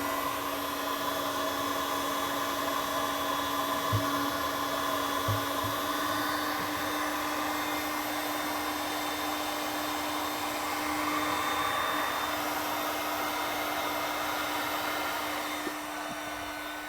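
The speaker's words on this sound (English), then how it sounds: "bring the heat gun in here and melt it down" A heat gun blows steadily while shrinking heat-shrink tubing over wires during a GE refrigerator defrost thermostat repair. The motor whine and airflow hiss hold constant and close, with a few faint clicks of handling.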